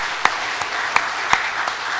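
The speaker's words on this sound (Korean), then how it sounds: "우리 박수로 환영합시다." A church congregation claps to welcome a newcomer during a Sunday service, a moderate, steady patter of many hands with a few sharper individual claps standing out.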